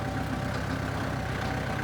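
A farm tractor used for tilling sugarcane rows idles nearby with a steady, low, even engine rumble that holds unchanged throughout, with no talk over it.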